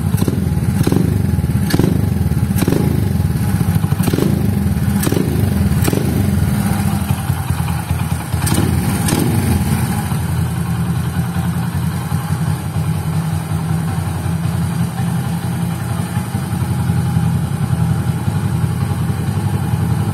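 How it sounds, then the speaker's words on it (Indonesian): Bored-out Honda Win motorcycle engine running alone at close range, a loud steady idle with a rough, throbby exhaust and several sharp revving blips in the first ten seconds before settling back to idle. "Jadi itu suara Honda Wind-nya"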